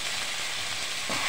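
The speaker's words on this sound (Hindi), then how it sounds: "अब इसमें हमने डालना है प्याज और प्याज को थोड़ा सा ब्राउन कलर आने तक भूनेंगे।" Onions frying in hot oil in a kadai over high heat to brown, a soft steady sizzle heard close up with no voices, swelling slightly at the end.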